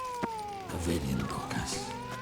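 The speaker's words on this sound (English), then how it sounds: "Oh, angry kitty." An angry cat in The Witcher 3 yowls and hisses in a drawn-out, wavering caterwaul, mixed with game music tones and background sound.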